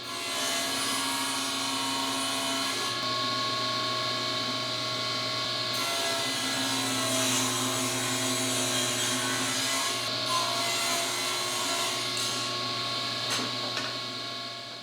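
A table saw runs steadily and loudly, a constant high whine with a busy mechanical hum as it cuts a rabbet in wooden vise jaws, the pitch shifting slightly several times as the blade works through the wood.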